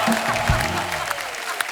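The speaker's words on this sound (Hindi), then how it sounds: "दोस्तों अगर दिल से मजा आया तो दिल से तालियां होनी चाहिए आज।" Studio audience at a Hindi comedy talk show applauding, a steady bed of clapping that holds at an even level for under two seconds, with a brief louder burst near the start and a sharp clap toward the end.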